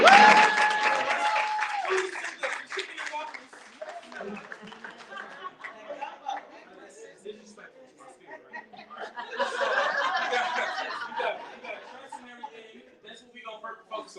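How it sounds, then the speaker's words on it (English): Audience clapping at a family entrepreneurs' retreat: a short opening burst fades into chuckles and chatter, then a second wave of clapping swells midway before trailing off under talk. "Let's clap it up for her real quick."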